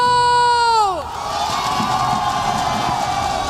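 An esports arena crowd at an Overwatch Champions Series group-stage match roars with sustained cheering and whoops, rising just after a short descending electronic tone.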